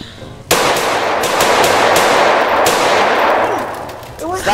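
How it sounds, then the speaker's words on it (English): Loud, sustained bursts of rapid gunfire in a shootout in the game Liberty Stories, starting abruptly and continuing almost nonstop at close range for several seconds. "This guy's shooting me for no reason!"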